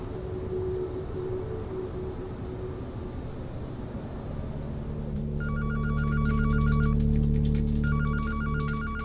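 Telephone rings in two short bursts of a bright electronic trill over a steady low hum, loud and close, after several seconds of droning background.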